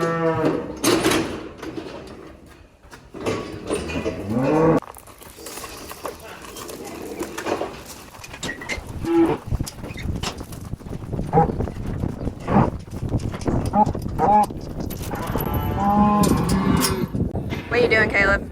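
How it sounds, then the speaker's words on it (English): A cow on a cattle farm being brought in for a health check moos in long, loud calls; birds chirp, and people talk over the herd. "which is actually not a calf, it's a cow. One of our mamas, so we're gonna get her in here"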